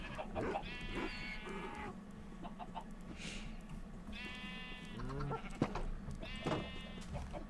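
Sheep bleating in the Minecraft video game, three distinct wavering bleats spaced a couple of seconds apart over faint background clucks and ambient noise, quiet and without talk.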